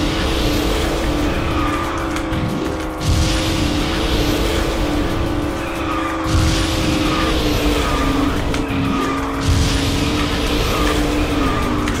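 A transparent kart races in the KartRider video game, its engine droning steadily with rising and falling pitch and repeated screeching drift slides at intervals.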